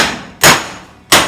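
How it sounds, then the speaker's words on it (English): A slapper file strikes the metal of a 1974 Dodge Dart Swinger quarter panel twice, about 0.7 seconds apart, each blow loud and close with a bright metallic ring that decays. "I was using the slapper file as kind of a flat piece of metal"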